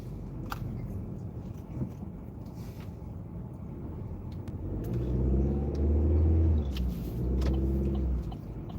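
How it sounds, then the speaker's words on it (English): A car engine running while still cold, a steady low rumble that swells louder midway with a heavier, revving drone before settling back, heard close with no talking. "This motor is still cold."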